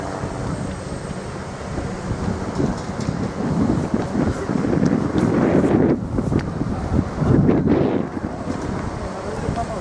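Strong wind buffets the microphone at Alcatraz in a steady, loud roar that surges and eases, with faint voices barely audible underneath.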